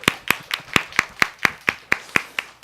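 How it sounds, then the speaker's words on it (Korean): A church congregation claps during a Sunday service, a single pair of hands striking about eleven times in an even, steady rhythm, close and clear with no talk over it. "이렇게 큰 박수로."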